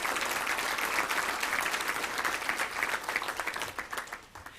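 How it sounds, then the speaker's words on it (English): Audience applause rings out at the 2019 Little Rock Touchdown Club awards banquet, a full room clapping steadily before it thins and fades near the end. "Round of applause for them."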